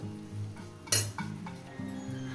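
Fried rice being stirred slowly in a pan for a chicken curry and fried rice meal, with a sharp metal clink near the one-second mark and soft scraping and tapping. Faint low hum throughout; no talking.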